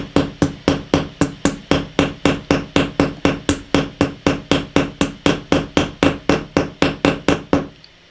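A small hammer strikes a wire rivet in jewelry making, roughly thirty sharp, evenly spaced metallic taps in a steady quick rhythm, loud and close with no talking.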